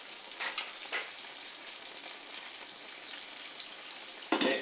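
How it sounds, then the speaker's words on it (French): Beef fillet searing in butter and a little fat in a hot pan, a steady hiss of frying with brief stirring swells near the start and a louder burst at the end, close and without talk. "Donc on va commencer la cuisson du filet de bœuf. C'est pareil, on va prendre un petit peu de beurre."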